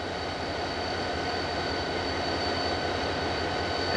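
A Tuscola and Saginaw Bay locomotive rolls past on rail, a continuous rumble of wheels and engine with a faint high squeal, steady and fairly close throughout.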